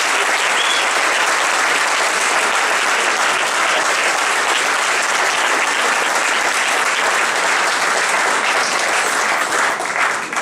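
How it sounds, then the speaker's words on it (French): Sustained applause from a festival audience, loud and dense for the whole stretch, with no voices breaking through. "ça mérite vraiment d'énormes applaudissements"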